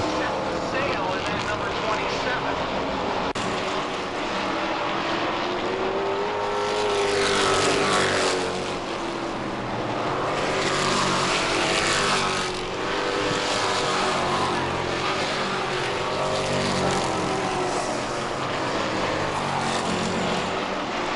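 Stock cars racing the final laps of a 50-lap race, engines roaring steadily as cars pass and swell in waves, under continuous commentary from a speaking voice.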